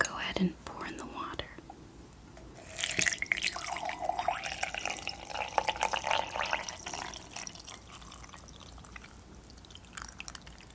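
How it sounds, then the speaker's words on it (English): Hot water poured from a teapot, a close, continuous trickle and gurgle that swells and then fades over several seconds, with soft whispering at the start. "I'll go ahead and pour in the water."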